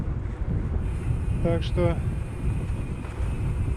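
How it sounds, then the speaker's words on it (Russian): Strong east wind buffets the microphone with a steady low roar and gusts during a road ride between Shakhty and Matveev-Kurgan, while someone speaks briefly. "Сейчас я еду, мне ветер в спину."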